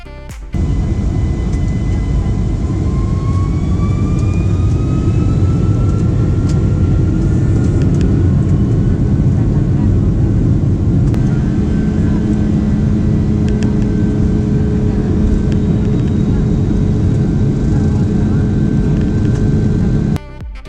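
Boeing 757 jet engines roar steadily through departure in bad weather, a loud continuous cabin drone with rising turbine whine, no voices.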